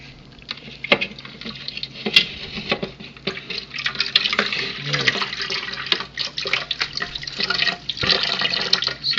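Water from a 50-quart mash tun valve flowing out through a long hose, with irregular splashing and patter close by, no talk.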